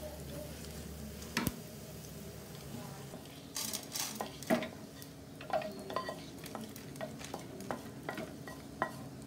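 Coriander seeds dry roasting in a pan for Rathna Cafe style sambar, heard as soft rattling and repeated spoon-scraping stirs against the metal, with a few sharper clinks, close and fairly quiet with no talk.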